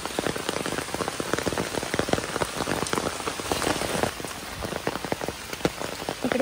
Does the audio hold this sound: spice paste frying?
no